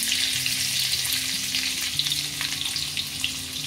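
Onions dropped into hot oil in a wok, a loud, dense, continuous frying hiss with light stirring, close and steady throughout, with no talking.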